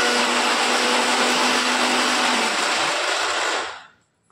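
Mixer grinder whirring loudly as it grinds coconut, garlic and coriander, a steady high motor roar that runs for a few seconds and then winds down to silence.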